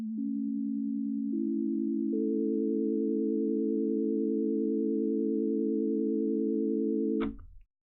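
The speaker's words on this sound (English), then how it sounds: "Let's try it on a sine wave." Steady sine wave tone from a software synthesizer under development, a pure sustained hum with small stepped changes as extra partials join, holding about seven seconds before a click and abrupt stop.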